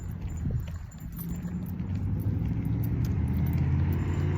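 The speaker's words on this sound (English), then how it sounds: "So, loud truck alert." A heavy truck rumbles past nearby, its deep engine drone steady and loud, swelling slightly as it goes by.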